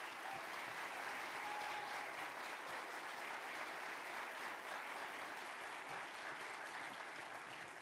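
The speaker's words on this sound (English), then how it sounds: "join me in giving a big round of applause to Nanette Barragán" Warm applause from a town hall audience at Xavier University in New Orleans welcoming Congresswoman Nanette Barragán, a sustained, even wash of clapping that stays steady and fairly distant for the whole stretch.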